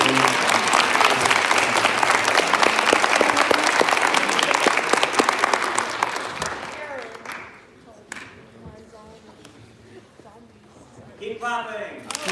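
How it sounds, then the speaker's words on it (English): Audience at a student film awards ceremony in New Mexico applauding loudly with dense, sustained clapping that fades out after about seven seconds, leaving a quiet room with brief voices before a short burst of renewed noise. "Let's give them a round of applause."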